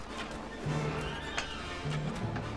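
A horse in the video game Mount and Blade neighs twice over game battle noise, with a faint rustle of hooves beneath.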